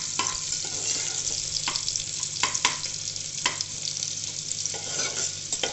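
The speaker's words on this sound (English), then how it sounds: "Wait for the onions, we have to get a little pink" Chopped onions fry in a pan for masoor, a steady bright sizzle with sharp spoon scrapes and taps repeating through the stirring.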